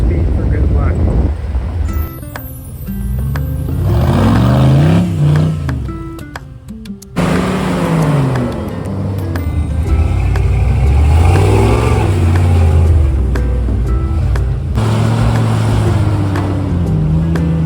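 An M715 army truck fitted with an 8.1 engine driving off-road on a trail: loud, close engine drone that repeatedly revs up and settles, with a brief drop partway through, under people talking.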